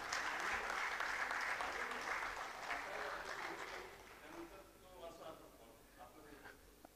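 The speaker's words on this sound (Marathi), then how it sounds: "पण टाळ्यांमध्ये नका ठेवू." Sustained applause from an audience at a Mumbai Marathi journalists' association award ceremony fills the first half, then fades out. A speaker's voice follows over a quieter room.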